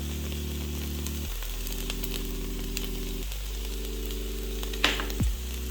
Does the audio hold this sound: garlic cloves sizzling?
yes